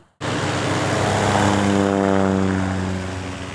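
A propeller airplane drones loudly and steadily overhead while dropping vaccine baits over forest and fields in Poltava region, Ukraine, its engine hum holding level for a few seconds before easing slightly.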